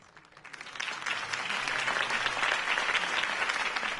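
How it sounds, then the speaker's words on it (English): A crowd bursts into applause in the Telltale Batman game, clapping that rises quickly from quiet and holds as a dense, sustained ovation. "If only Mr. Wayne, my campaign's largest backer, could have heard that applause"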